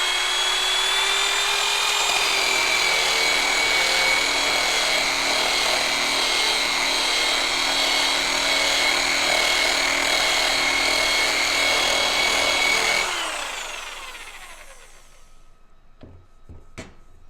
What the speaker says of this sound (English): Now it's also abrading the metal because I know this is too abrasive for this plate.